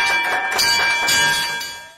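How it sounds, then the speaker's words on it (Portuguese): A hand bell in a hospital chemotherapy ward rings with a bright, sustained metallic tone and a few sharp strikes, fading away at the end. "ele tocou o sino da vitória."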